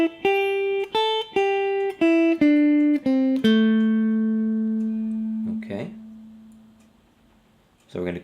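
Guitar closing a blues solo phrase with a run of clean picked notes stepping down the scale, ending on a long ringing note that fades, followed by a couple of soft string noises.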